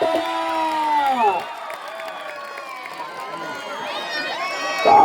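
Excited spectators at a village wrestling bout roar and shout with rising, wavering vocal tones, loud crowd noise with a commentator's voice over it and cheering swelling again at the end.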